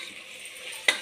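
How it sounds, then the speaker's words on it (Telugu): Toor dal and chopped tomato frying in oil in a pan, a soft steady sizzle with a brief sharp clink or stir near the end, fairly close and with no talking. "ఆయిల్లో కొంచెం ఫ్రై కావాలి"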